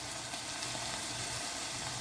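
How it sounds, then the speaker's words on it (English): Food sizzling steadily in hot oil and sugar in a pan while cooking a Southern Thanksgiving side dish, a continuous close frying hiss with no talk. "They're starting to sizzle now. The oil and the sugar is working together"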